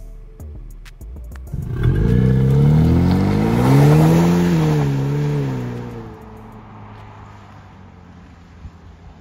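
A 2024 Ford Mustang engine starts and revs up, its deep rumble rising and falling through a loud sustained swell, then settling back to a quieter idle near the end.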